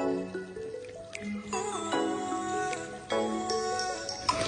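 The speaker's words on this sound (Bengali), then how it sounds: "এখন আমি মাছগুলো দিয়ে দেবো।" Pieces of silver carp drop into a simmering potato and tomato curry, giving a series of soft wet squishes and drips over a low bubbling background.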